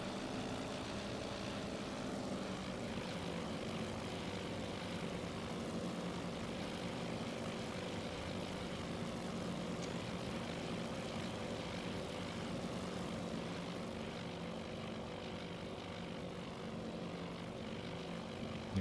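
Carrier aircraft engine throttling up for takeoff in the naval strategy game Task Force Admiral: a steady, loud propeller-engine drone holding evenly throughout with no talk.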